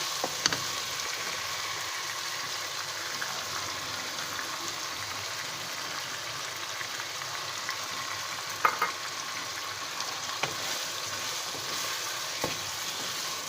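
Chicken pieces frying in a pot for chicken cheese handi, a steady, even sizzle with occasional soft stirring clinks, continuous and close with no talk.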